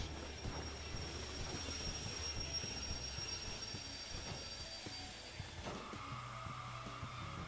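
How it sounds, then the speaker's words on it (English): A runaway train rolls along the rails in Derail Valley, a railway simulation game, with a continuous low rumble, faint wheel squeal and rail clatter. The sound holds at a steady distance, and no one speaks. "Oh, the train's rolling away."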